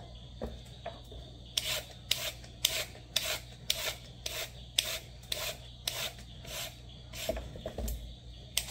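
A carrot is grated for a sandwich recipe, giving a run of evenly spaced rasping strokes, close and crisp, with a few softer scrapes at the start and end.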